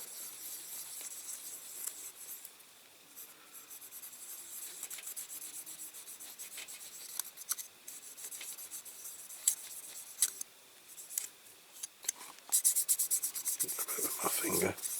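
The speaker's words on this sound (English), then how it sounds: "polishing it a bit with the lamp doctor" Cloth rubbing polish over a Mercedes-Benz truck headlight lens with a lamp doctor product, quiet rhythmic rasping strokes close by that grow louder and more rapid toward the end.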